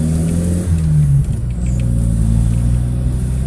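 Car pulling away and accelerating on adulterated fuel with MegaSquirt injection, a close engine rumble with a rising tone and a gear change partway through.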